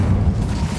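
An Incendio fire spell cast in Hogwarts Legacy lands as a single deep, rumbling burst of flame that fills the short moment loudly and steadily, with no pause or tail.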